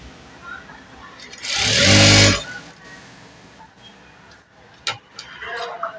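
Sewing machine stitching a pair of pants in one loud, close burst of roughly a second, followed by quiet handling noises and a couple of short clicks.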